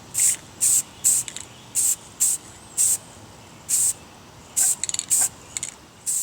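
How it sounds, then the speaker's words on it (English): A spray paint rattle can fires a series of short, sharp hissing bursts, about a dozen evenly spaced, close and loud against a quiet room, coating surplus AK-47 magazines. "So what we're going to do is just paint the surface, and just like any other spray painting basics, light coats, multiple coats,"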